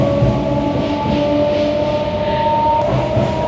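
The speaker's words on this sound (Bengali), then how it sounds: "আমাদের ট্রেনটা তো ছেড়ে দিয়েছে" Passenger train on the line out of Domjur, rolling steadily with a close, continuous rumble and a sustained tonal whine from inside the carriage, with no voices.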